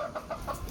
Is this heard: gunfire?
no